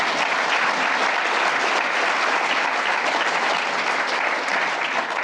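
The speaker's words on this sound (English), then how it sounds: "Please give them a round of applause." Sustained audience applause at a conference keynote session, a dense, even wash of many hands clapping in a large room, loud and steady for several seconds without a break.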